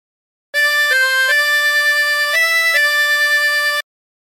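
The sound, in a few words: tremolo harmonica playing a hymn phrase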